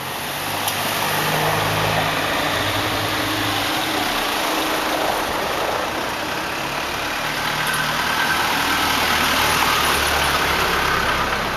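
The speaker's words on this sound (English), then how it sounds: "You see, more vehicles coming by." Continuous rumble of cars and motorbikes driving past on an Indonesian street, with engines droning and swelling steadily and close by throughout, no pauses and no talk.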